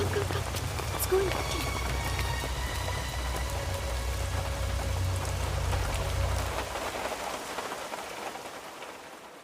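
Steady rain falls outdoors, a dense hiss with low rumble underneath that gradually thins toward the end, with no voices over it.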